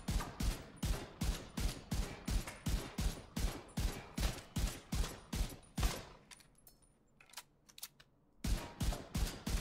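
Rapid gunfire from the Baker's Dozen rifle in the video game The Division 2: a fast, evenly spaced string of sharp shots that stops briefly mid-burst, then resumes for a few more rounds.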